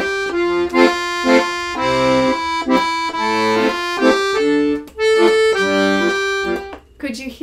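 Accordion playing a phrase of sustained chords with an audible break partway through a note where the bellows change direction, the tone briefly dropping out before resuming and then fading as the air runs short.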